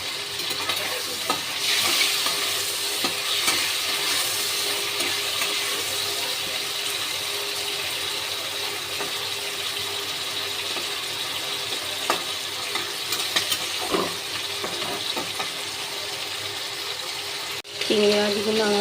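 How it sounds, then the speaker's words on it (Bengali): Prawns fry in a pan with a steady loud sizzle, joined by intermittent stirring scrapes, and a sharp clatter toward the end. "চিংড়ি মাছগুলো আমার ভাজা হয়ে গেছে"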